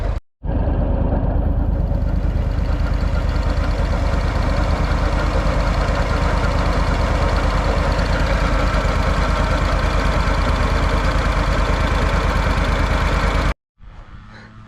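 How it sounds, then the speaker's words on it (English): A failed bearing in the hydro drive of a Walker mower makes a steady, loud rotational drone with a low rumble. It runs without a break for about thirteen seconds, then cuts off sharply. "you hear that rotational noise? That, guys, is a bearing that has let go in my hydro."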